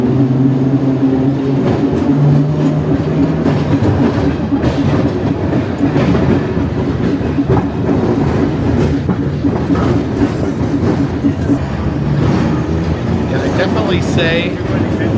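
A New Orleans streetcar on the Canal line rumbles steadily along its rails, a continuous loud clatter and roar with wheel noise throughout, fairly rough and unbroken for the whole stretch.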